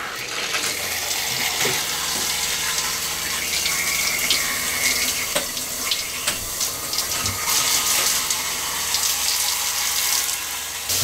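Running water rinses down a freshly grouted shower, a steady close hiss and splash that continues for the whole stretch without pause or voices.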